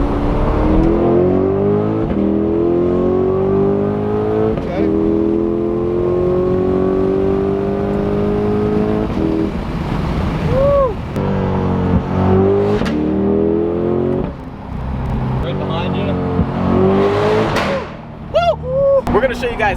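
A sports car accelerates on a highway, the engine note climbing through several gear pulls with brief dips between shifts, loud and close against steady road noise, while people talk.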